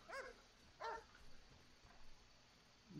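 A few short dog barks in the video game The Witcher, spaced apart and fairly faint, over a quiet background hum.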